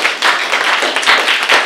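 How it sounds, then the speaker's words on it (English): A dense burst of audience applause for an actress on a Filipino Hollywood actors panel. Steady, loud clapping fills the whole moment, with no voices over it. "Let's give her a round of applause."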